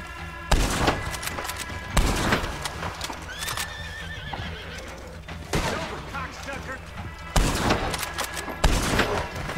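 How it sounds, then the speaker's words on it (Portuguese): Machine-gun fire in the video game Red Dead Redemption comes in several loud, sharp bursts, mixed with horse hooves clip-clopping and a whinny. "Tô ouvindo barulho de metralhadora."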